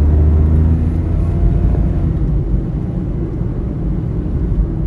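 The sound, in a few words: freshly serviced Perodua Axia car driving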